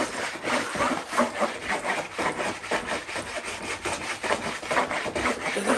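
A hand plane shaves a wooden workpiece in a run of repeated rasping strokes, close up and steady in rhythm, with no talk over it.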